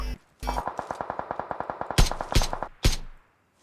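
Rapid automatic gunfire in a shooter game: a quick burst of around twenty sharp, evenly spaced shots, then three heavier single blasts with echoing tails, loud and close, with brief voice sounds nearby.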